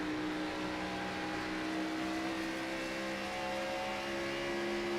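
Stock cars in a racing simulator game at Dover track, a steady loud engine drone with sustained whirring tones throughout, no talk.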